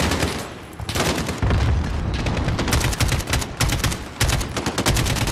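Sniper rifle fire in the Modern Warfare campaign comes as loud, sharp cracks repeating at short irregular intervals, set among dense battlefield gunfire and booms.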